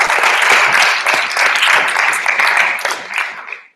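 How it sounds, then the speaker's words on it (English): Audience applause for a debate speaker in a hall, loud and close clapping from many hands that holds steady for several seconds and then thins out and fades at the end. "a full round of applause there for the first opposition speaker, Sean Wallace."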